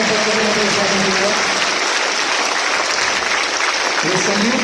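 Sustained, dense applause from an audience honouring mothers at a school Mother's Day assembly, a steady wash of many hands clapping throughout.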